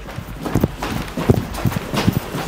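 Footsteps sound in a historic speakeasy as a series of irregular, hollow thuds and knocks, moderately loud and close, spaced unevenly over a low background hum.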